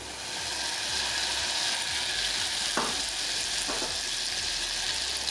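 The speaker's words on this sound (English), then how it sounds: "And a saucepan will melt 2 tablespoons of butter." Two tablespoons of butter melting in a saucepan, a steady close hiss and sizzle that holds at an even level throughout, with a couple of faint clinks partway through.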